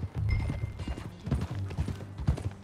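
Horse hooves clip-clop while riding in the video game Red Dead Redemption, a quick uneven run of close, fairly loud thudding steps with faint game ambience behind.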